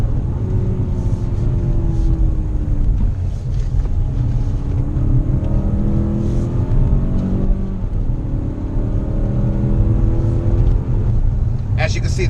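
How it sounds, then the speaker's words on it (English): A 2018 Mazda CX-5 Grand Touring compact SUV engine pulls at full throttle in sport and manual mode, a steady low rumble with rising harmonic sweeps as it revs through gears, heard from inside the cabin with a voice talking over it. "As you can see, that's full throttle right there."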